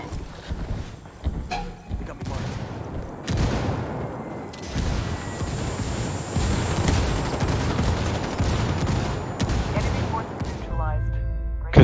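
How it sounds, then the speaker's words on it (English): Mortar strike in Ghost Recon Wildlands during a Ghost War match, a cluster of heavy booms and gunfire bursts layered over ongoing game noise, with players talking throughout. "Nice mortar."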